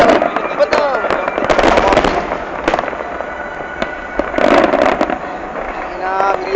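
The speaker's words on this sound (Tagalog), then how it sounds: "Ayun yung sinasabi ko, paikot na putok." Fireworks for Qatar National Day burst in rapid crackling volleys with sharp pops and whistling streaks, fairly loud and close, with people talking over the display throughout.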